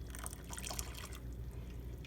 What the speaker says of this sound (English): I think I will add just a tad bit of water.